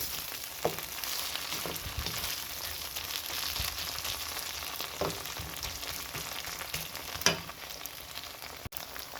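Ginger and garlic paste frying in a pan for a mutton rezala, giving a steady, fairly quiet sizzle with occasional soft crackles and no voices.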